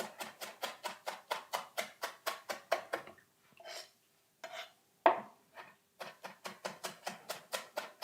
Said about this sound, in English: Now just roughly chopping this up so that it kind of like fits in the dough better